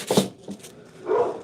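Nearby, a dog barks sharply and then lets out a higher whimpering whine, two short bursts over a quiet indoor background.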